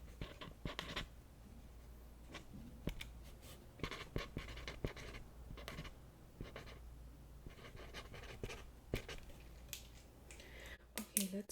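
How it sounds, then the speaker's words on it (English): A pen writes a name on paper during a makeover consultation role-play, giving soft, close scratchy strokes in short bursts with brief pauses and a steady low hum underneath. "Let me write your name down here."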